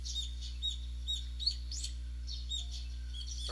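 Birds chirp and tweet in short bright bursts over a steady low hum in the video game Higurashi When They Cry Kai, light calls scattered across a few seconds.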